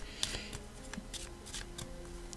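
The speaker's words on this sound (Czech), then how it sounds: "Jako já, když taky takhle ty kartičky míchám," Tarot cards are shuffled by hand in a few quick, soft riffles and taps, close up and quiet.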